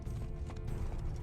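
Roach, a horse in The Witcher 3: Wild Hunt (Blood and Wine DLC), gallops in a steady muffled drumming of hooves beneath a dense, noisy game soundscape, brief and moderately loud.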